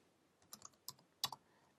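Keys click on a computer keyboard in a few quick, faint taps close by. The taps come in small clusters with short gaps between them and no voices.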